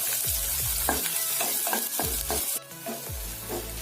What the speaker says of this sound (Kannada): ಬೆಳ್ಳುಳ್ಳಿ, ಈರುಳ್ಳಿ ಚೆನ್ನಾಗಿ ಫ್ರೈ ಆಗಬೇಕಿದು